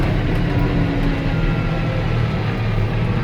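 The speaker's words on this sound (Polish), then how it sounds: "Będę teraz puszczał gaz" A Claas Ares 557 tractor, a 2018 model fitted with an FL 120 loader, runs with a loud, steady low engine drone as the throttle is released, and no voices can be heard.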